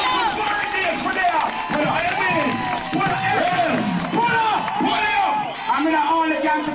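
A dense crowd cheers and shouts at a 2004 dancehall concert, with a loud, continuous roar of voices and a performer calling out over it.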